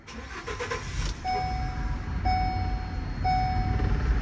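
A Ford Transit van engine with a check engine light cranks and idles roughly under a steady low rumble, while a high electronic tone beeps three times at even intervals.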